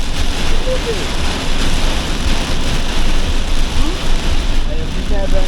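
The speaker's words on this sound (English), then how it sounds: "I have never ever seen rain like this before." Torrential rain pours down on a flooded motorway, a dense steady roar of heavy drops and spray that stays loud throughout, with a voice briefly audible beneath it.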